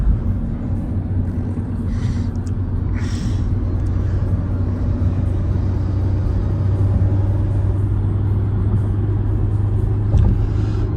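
A car drives steadily with a constant low engine and road rumble throughout, loud and close, with no talking.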